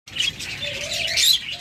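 A caged lovebird lets out a quick burst of shrill, high chirps and twittering, close and loud, over quieter background tones, with no talking.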